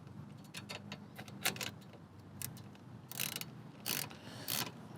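A ratchet wrench tightens an 8mm bolt during assembly of a reverse tadpole-style electric trike, giving short bursts of quick, close mechanical clicks separated by brief pauses.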